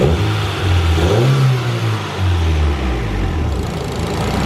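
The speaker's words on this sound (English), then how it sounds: "I rev it and it wants to die because the idle air control can't really react fast enough" A turbocharged Honda B18 engine revs on a dyno, rising in a loud, gravelly surge, then falling back as the idle dips and wavers, with the low throaty drone continuing throughout.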